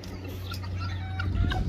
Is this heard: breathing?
no